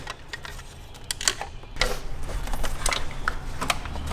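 Plastic clips being popped loose by hand or flathead screwdriver on a BMW E46, a close series of sharp clicks and snaps amid rustling handling noise, spaced irregularly and growing busier in the second half.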